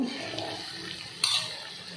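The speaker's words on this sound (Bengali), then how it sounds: "উষ্ণ গরম জল এই মশলাটা ছিল সেটা দিয়ে দিলাম" Warm water goes into a pot of chicken curry, with a soft running gurgle over a low simmer and one sharp clink of a utensil against the pot partway through.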